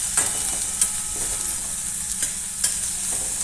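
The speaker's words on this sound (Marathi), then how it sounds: "कांदा लाल होईपर्यंत परतणे." Finely chopped onion frying in a pan for masala oats, a steady close sizzle broken by periodic scraping stirs of a spoon, with no voices.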